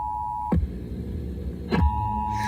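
Emergency Alert System attention tones broadcast on 105.3 WJLT radio ahead of a tornado warning, a steady electronic tone cut by two loud bursts of data noise, moderately loud with no talk.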